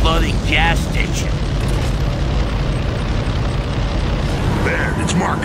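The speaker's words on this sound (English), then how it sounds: "I'll stay with the exploding gas station" A loud, sustained roar of fire and blasts from an exploding gas station in the Gears of War video game, dense and continuous with brief bursts rising over the rumble throughout.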